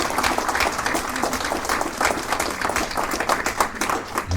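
Enthusiastic clapping from a crowd in a meeting hall during a Rassemblement National political gathering in Belfort, close and continuous with individual hand claps standing out.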